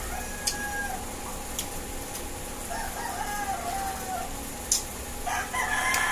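A rooster crows faintly in the distance, a couple of drawn-out calls over a constant background hum.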